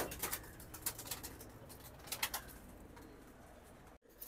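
Silver pankhi pigeons softly coo in short repeated bursts, faint and somewhat distant over a low background hum.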